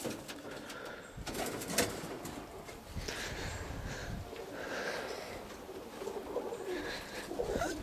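Young roller pigeons coo softly and repeatedly around a garden loft, their murmuring calls mixed with rustling and snuffling close by, steady throughout with no one talking.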